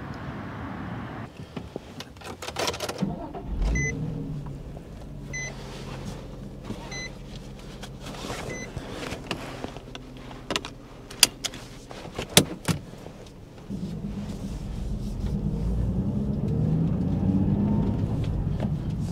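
A 2003 Nissan 350Z Track Edition sets off on a spring drive on a rainy day, with door, key and power-window sounds at first, then a low engine and road hum that grows steadily louder toward the end.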